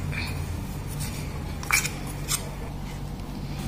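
Potato snack batter being stirred in a bowl with a spoon, soft wet squishing with a couple of sharp clinks of utensil against the bowl rim, close and quiet.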